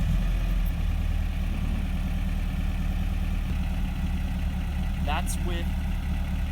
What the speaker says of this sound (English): Now that it's warmed up, let's restart it and see how well it starts.